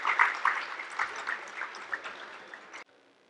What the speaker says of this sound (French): je pense qu'il mérite encore quelques applaudissements